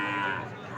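A bull calf at a rural cattle market lets out a brief, moderately faint low moo, with market background noise around it.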